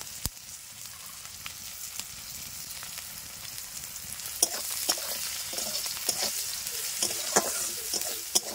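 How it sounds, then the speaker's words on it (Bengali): Onions salted and fried in a pan for a Bengali young-jackfruit curry, giving a steady close sizzle with scattered clinks and scrapes of stirring throughout, no voices. "আমার পেঁয়াজটা লাল লাল করে ভাজা হয়ে গেছে"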